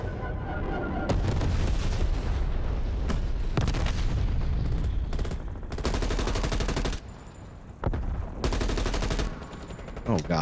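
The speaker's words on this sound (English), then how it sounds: "Napalm strike inbound." Napalm strike explosions in the video game Maneater boom and crackle in repeated heavy bursts, loud and close, separated by short quieter gaps, with a low rumble carrying between blasts.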